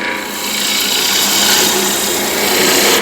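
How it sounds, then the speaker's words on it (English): A hand plane shaves along a wooden board in one long, loud, continuous rasping stroke lasting about three seconds. "So this is planing cut."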